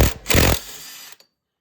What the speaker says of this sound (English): I just wind the whole thing out one time.